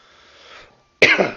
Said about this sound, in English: sorry, my cough is still really bad.